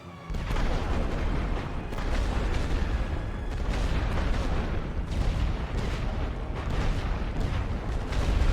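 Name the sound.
artillery fire in a WWI strategy video game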